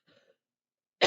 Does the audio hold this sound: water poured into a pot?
no